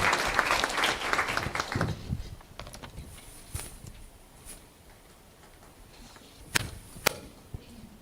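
Seminar audience applauding to welcome a speaker, a burst of clapping for about two seconds that fades out, followed by scattered knocks and clicks in a quiet room.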